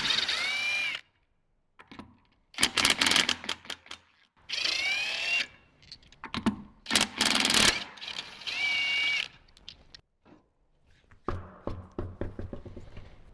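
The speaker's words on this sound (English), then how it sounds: "I'm going to grab our socket, we'll get these 3 lugs off" An impact tool removing the rear wheel lug nuts on a Jeep Wrangler JK: loud whirring bursts with hammering rattles, several runs separated by short silences, close up.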